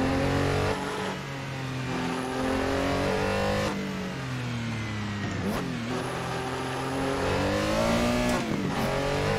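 Porsche 911 RSR race car engine in a racing video game on a hill climb, revving loudly and continuously, pitch climbing and dropping through gear changes, close and alone without talk.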